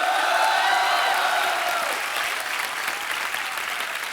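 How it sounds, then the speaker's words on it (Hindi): Studio audience applause fills a Hindi comedy show set, loud and steady throughout, slightly easing after the first couple of seconds but continuing as a dense wash of clapping. "हौसला अफजाई के लिए ठोको ठोको। तालियां।"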